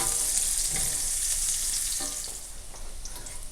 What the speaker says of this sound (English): you're gonna add your shiitakes, and you're gonna caramelize these now